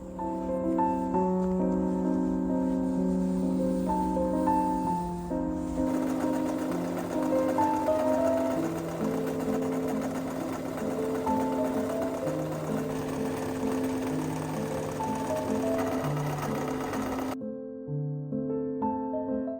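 A sewing machine stitching dress skirt panels together, a steady mechanical hum with tonal whine running continuously, shifting slightly in pitch, then cutting off near the end.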